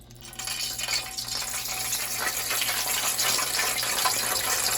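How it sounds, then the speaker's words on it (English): Steady broadband crackling and hissing that starts abruptly and holds loud and continuous, as water droplets hit hot frying grease before frying chicken, with no voices. "Just get a little bit of water on your fingertips, drop it in there."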